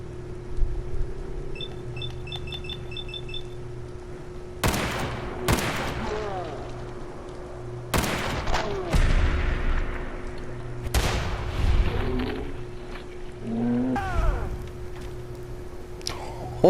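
Gunfire in the video game Fallout 4: several loud, sharp shots at separate moments, each with a ringing tail, over a steady low game hum and some faint electronic beeps.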